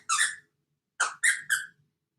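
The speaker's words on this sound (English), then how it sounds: "She got a toy to squeak right behind me." A squeaky toy squeaks right behind a person: one shrill squeeze, a pause, then three quick squeaks in a row, clear and close with no talking.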